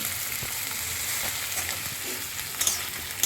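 Onion, garlic and ginger paste sautéing in a pan for shahi mutton curry, a steady close hiss of frying with occasional light clinks and scrapes of a spatula toward the end.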